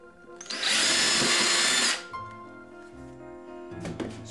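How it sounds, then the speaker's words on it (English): A power drill with a 1/8 inch bit bores holes in an owl box. One loud, steady whine lasts about a second and a half, then quiet shop sounds follow. "taking our 1/8 inch bit, we're going to drill out these holes"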